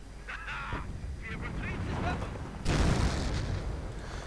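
Company of Heroes 2 battle sounds: sharp gunfire and booming blasts over a layered din, with a sudden louder crack and burst partway through, under a continuous background.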